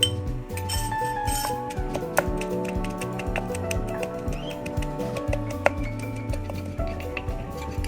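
Roasted shallots and garlic pounded in a mortar for a Thai chili dip, heard as quick, regular knocking taps and clinks in a steady rhythm over continuous background noise.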